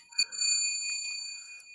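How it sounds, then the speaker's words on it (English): A bell rings with a bright metallic strike, and its clear, sustained tones hang and slowly fade over a second or two, faint and alone. "Like that bell."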